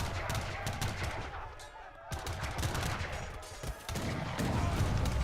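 Faint, dense crackle of gunfire and dull blasts from mortar fire roll on continuously in a real-time strategy game battle involving Cossack and Strelets units.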